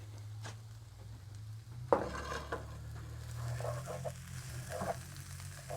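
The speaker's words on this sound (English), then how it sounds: "Stir it all in good and just want to warm this up" Brisket and onions stirred in a pan over an open fire, a low steady sizzle with scraping and clinks of a utensil against the pan, close and moderately quiet with no voices.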